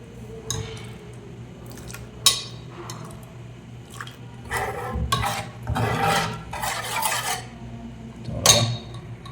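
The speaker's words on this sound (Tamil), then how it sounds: "இந்த தாலில் கொஞ்சம் அப்படியே லைட்டாக மிக்ஸ் பண்ணிவிட்டுருங்க" Ladle stirring and scraping through thick cooked dal with drumstick in a metal pot, a series of short rasping scrapes and clinks, close and moderately loud, with no talking.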